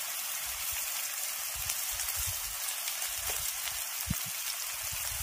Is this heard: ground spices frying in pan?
yes